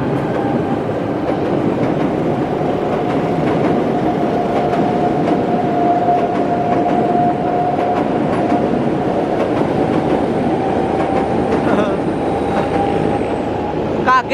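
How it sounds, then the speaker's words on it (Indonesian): A train rumbles past close by on a climbing line where trains slip, loud and continuous, with rattling wheels on the rails and a steady mechanical drone. "Saya tadi sedikit mendengar gemuruh kereta"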